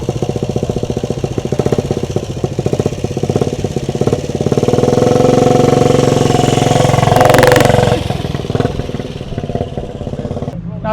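A Kawasaki W bobber motorcycle engine idles nearby with a steady, loping thump as the flywheel turns, swelling briefly louder midway as the throttle is blipped, then settling back to idle.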